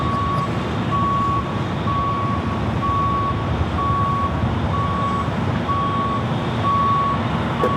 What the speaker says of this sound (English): A bus is literally going backwards in the middle of the road.